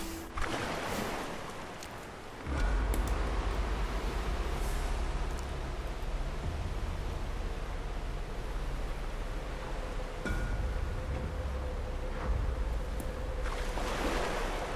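Ocean waves and water rushing past a sailing ship in the video game Mount and Blade II Bannerlord, a steady broadband wash with rising surges around the middle, heard alone without talk.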